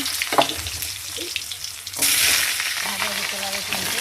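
Potato pieces frying in hot oil with cumin and bay leaf for a fish curry, a continuous close sizzle that swells louder midway, with scraping stirring strokes and no voices.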